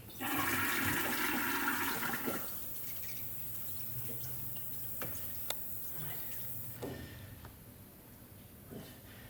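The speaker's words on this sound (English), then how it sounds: "Drain off all that ferric." Ferric chloride drains off a hard-ground etching plate in a rushing pour for about two seconds, followed by scattered drips and small clicks in a quiet room.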